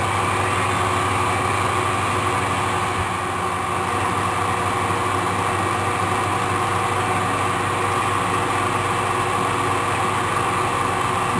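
A machine tool takes a light ten-thousandths cut in metal, a loud, steady mechanical whine with motor hum running unbroken and alone throughout.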